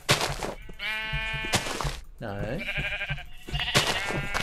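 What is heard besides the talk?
sheep bleating in the video game Minecraft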